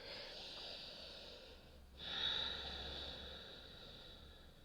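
Slow, deep breaths during a yoga pose, a soft airy inhale and then a fuller exhale, quiet and close with no talking.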